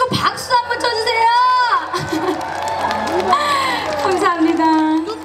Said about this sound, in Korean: 손 한번 흔들어 주시고 박수 한번 쳐주세요